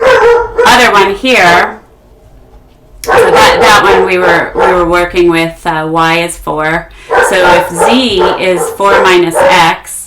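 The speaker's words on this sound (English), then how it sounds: "sorry about the dogs" Dogs bark and yip in the background of a home setting, intermittent and moderately distant, mixed under continuous lecture speech about math.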